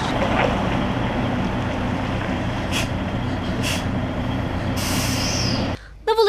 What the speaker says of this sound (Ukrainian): Працює один навантажувач, а поруч у черзі вишукувались фури.